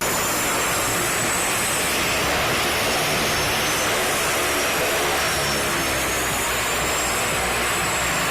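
A seaplane engine on a Bandırma–Istanbul route drones as a steady, loud, even roar with a faint high whine drifting through, unbroken for the whole stretch and with no voices.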